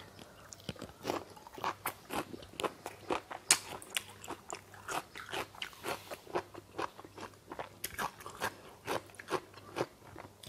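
Crunchy, chewy bites of a Thai honeycomb beef tripe salad, eaten close up in a steady run of quick, repeated chomps with no talking.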